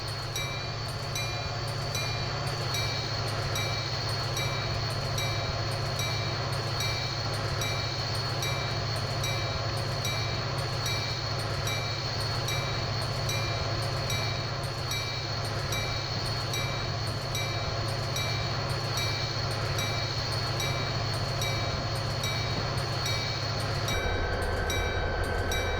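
Trains rumble through downtown Chicago on the Chicago-Aurora line in Train Simulator 2016, a constant low rolling drone with steady tonal hums that shifts slightly near the end.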